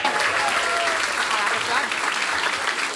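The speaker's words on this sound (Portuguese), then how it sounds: "Pastora Shaila Manzoni, uma salva de palmas." Applause from a church congregation after a prayer, dense and steady for the whole stretch, with cheering voices mixed in under the clapping.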